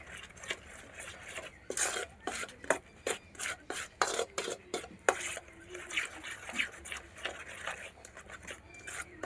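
Spoon stirring and scraping ingredients in a pot for a Gujarati sweet-sour fenugreek and drumstick curry, a quick run of close rasping strokes with small metallic clinks, fairly quiet.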